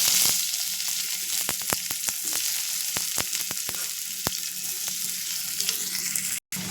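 Chopped onions sizzle loudly as they hit hot oil with whole cumin seeds and broken dried red chillies, a steady dense frying hiss punctuated by sharp crackles and pops, with no one speaking.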